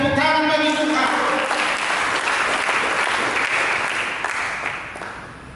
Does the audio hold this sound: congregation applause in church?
yes